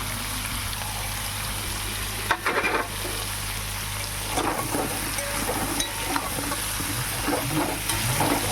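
Pointed gourd and a few potato pieces frying in hot oil with salt and turmeric, a steady dense sizzle with a few louder crackles and scraping stirs, close and continuous, no talking.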